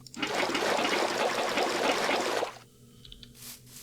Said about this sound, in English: I'm going to go and fill these 15 buckets of water before we go any further